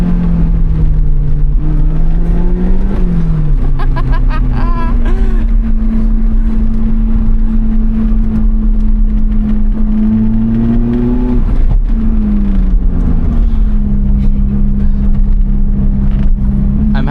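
A Lotus Elise Cup 250 tears along a winding mountain touge road, its engine a loud, continuous drone that climbs and dips in pitch through gear changes and throttle lifts, with no talk.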